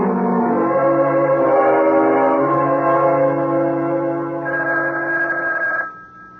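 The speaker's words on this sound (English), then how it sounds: "It's the phone, Gil. Can't you hear it?" An old-style telephone bell rings loudly and continuously for about six seconds in a radio drama scene, then cuts off abruptly.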